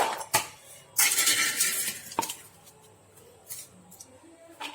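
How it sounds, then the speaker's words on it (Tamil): Groundnut cutlet ingredients tipped into a vessel and mixed, with several close clattering clinks of utensil against dish, a longer scraping burst, then lighter scattered taps. "ஒரு பாத்திரத்துல கொட்டி ஒன்னா சேர்த்து கிளறிக்கலாம்"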